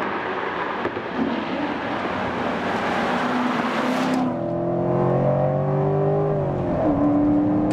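A Corvette C7 Stingray engine roars loudly and continuously, building into a smooth, rising drone as it accelerates, with no voices.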